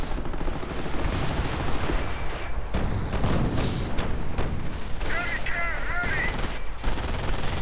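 Machine gun bursts and explosions crackle in a WWII strategy game battle as German Volksgrenadier infantry advance toward a Sherman tank, with a commentator talking continuously over the gunfire.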